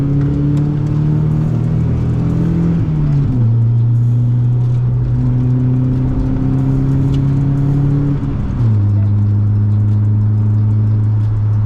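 A minitruck with cantilever front suspension drives along with a loud, steady engine drone that shifts pitch twice as it steers left and right, heard from inside the cab.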